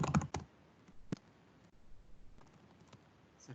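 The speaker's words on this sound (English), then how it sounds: "Excuse the typing." Computer keyboard typing in a quiet room, with a quick burst of clicky keystrokes at the start, then sparse isolated taps over a soft background hiss, close and fairly quiet.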